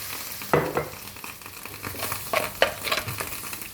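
Fish curry masala being stirred in a pan, a low sizzle under a few sharp scrapes and clinks of the spoon against the pan, close and brief, no speech.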